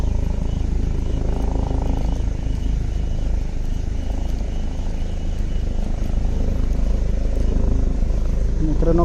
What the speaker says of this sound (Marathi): मला घ्यायला हेलिकॉप्टर आला आहे बघा